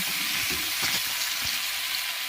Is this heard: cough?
no